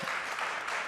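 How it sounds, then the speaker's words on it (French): Audience applause fills the whole brief moment, a dense, even patter of many hands clapping with no break. "Moi, je comprends vos applaudissements"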